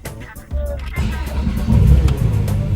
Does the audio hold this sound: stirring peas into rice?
no